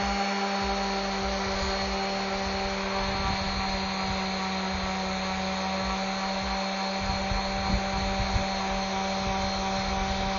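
An orbital sander works across a piece of wood, smoothing out chainsaw marks, giving a steady, even whir with a constant tonal hum and no pauses.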